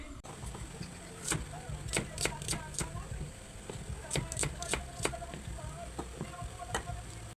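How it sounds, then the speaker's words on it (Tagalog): Knife slicing two onions for chicken-feet kaldereta, a series of sharp, evenly spaced chopping ticks on a board at close range, over a steady low background hum. "Dalawang perasong sibuyas nga pala yung aking isasahog dyan. Ayan nga at ating aking hiniwa na."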